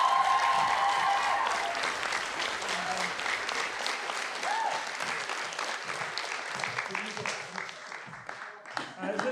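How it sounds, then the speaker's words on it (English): A theatre audience at a Beauty and the Beast production applauds the unseen backstage helpers, with dense, sustained clapping that slowly thins toward the end as a voice starts to come through. "let's give them a big round of applause"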